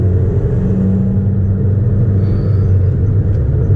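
A 2004 Nissan Sentra SE-R Spec V engine rumbles steadily from inside the moving car, a loud, low continuous drone with a faint hum on top and no talk.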